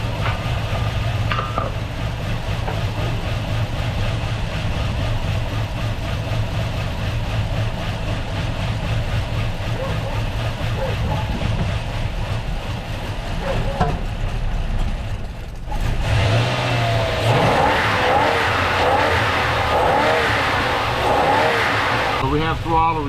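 Cold Toyota Tundra pickup engine running steadily near the microphone, with a broader, louder rise late on as it is revved; a person talks over the engine.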